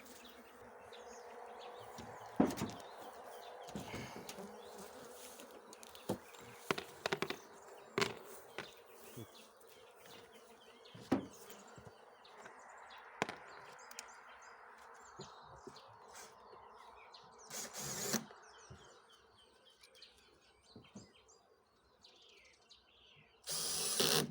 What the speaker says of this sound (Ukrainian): бджола е, пам'ятає свій літок і залітає в літок